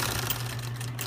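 A sewing machine runs steadily, stitching a coat shoulder seam with a continuous even hum and rapid needle clatter, close and alone for the whole moment.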